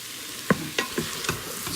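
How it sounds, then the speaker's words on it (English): Chili ingredients are fried and stirred in an Instant Pot, with soft scraping strokes of a utensil at an irregular rhythm over a faint sizzle, close and fairly quiet. "So I'm frying this stuff around."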